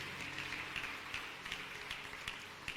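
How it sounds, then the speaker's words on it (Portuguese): A church congregation applauds, a brisk, moderately loud patter of many hands clapping with a few sharper claps standing out, steady through the short stretch. "Você pode aplaudir ao Senhor por isso?"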